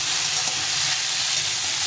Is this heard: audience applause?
no